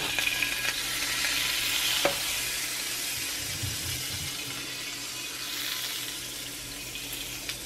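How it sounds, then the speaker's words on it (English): Butter sizzles in a hot pan as a tortilla fries, giving a steady, loud hiss with a few soft clinks and scrapes from cooking and no talk. "Sizzle."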